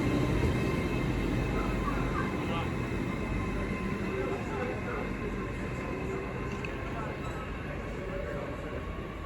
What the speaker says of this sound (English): Now departing is the 1410 Great Western Railway service from Great Malvern to London